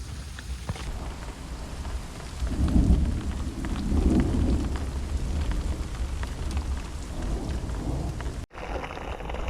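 Steady heavy rain pours down during a mountain thunderstorm on the Continental Divide Trail between Anaconda and Butte, Montana, with low rolling thunder swelling twice near the middle and a sharp brief dropout near the end.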